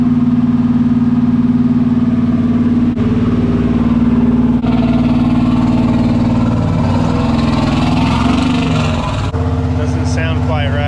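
A junkyard 6.0 engine running on a dyno, with a loud, steady, rough drone and strong low harmonics that shift as the throttle changes, and voices talking over it.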